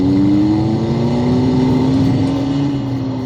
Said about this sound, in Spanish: para simular el supuesto ruido de motor, pero es como si fuese un sonido de videojuego de hace 20 años atrás